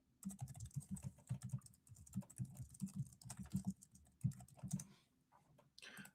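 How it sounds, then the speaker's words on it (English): Quiet, irregular clatter of fingers typing on a computer keyboard, bursts of keystrokes with short pauses, close but soft, fading toward the end with no voices. "I'm actually typing to them right now"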